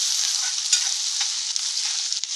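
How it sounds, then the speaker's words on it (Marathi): Tomatoes go into well-browned onions frying in a pan for a ridge gourd dish, a close, steady hissing sizzle with light stirring scrapes throughout. "आपला कांदा थोडा चांगला भाजला गेलाय, आपण टोमॅटो घालतोय।"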